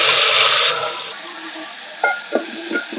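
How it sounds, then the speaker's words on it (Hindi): Masala spices fry in hot oil in a cooking pot, starting with a loud burst of sizzling that settles into a steady softer hiss, with a few light clinks of stirring near the end. "भगोना में तेल गर्म हो गया अब मैं मसाला भून लूं इसमें"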